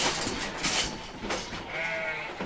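Sheep and lambs are penned together. Close, overlapping bleats rise above a busy background of shuffling, with one clearer, drawn-out bleat near the end.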